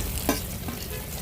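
Fish frying over a wood-fired stove gives a dense, steady sizzle with a couple of soft scrapes in a brief, close burst.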